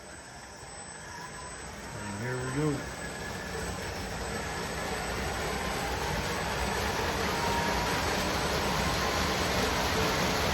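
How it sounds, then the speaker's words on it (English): Large 3D-printed model train set starting up and hauling more than thirty cars, a steady broadband rumble that builds slightly over several seconds, with a brief spoken phrase near the start. "And the train's going to start."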